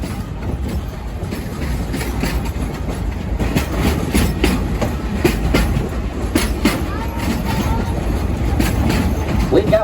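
The Frisco steam train at Silver Dollar City rolls along the rails with a loud, steady rumble and repeated clicking of wheels over track joints, close by and continuous throughout.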